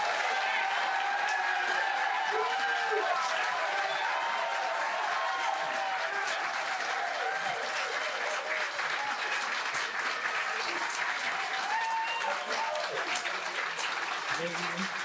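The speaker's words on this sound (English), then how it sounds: "I would implore you to please hold your applause till the end of the session." A large audience at a congressional debate for Virginia's 10th district breaks into sustained applause lasting the whole stretch, dense and steady, with faint voices and cheers mixed into the crowd noise.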